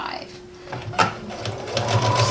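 A sewing machine runs intermittently while stitching a skirt side seam, short close mechanical bursts and clicks mixed with handling noise, with a person talking over it.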